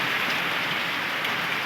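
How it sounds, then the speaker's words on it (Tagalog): Heavy rain pours without pause during Typhoon Krising in the Philippines, a dense, even hiss of drops drumming on surfaces close by, with no voices. "walang tigil ang ulan"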